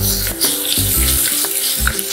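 Ginger and garlic sizzle in hot oil with onions that have turned pink, a steady close crackle interrupted by a few stirring scrapes.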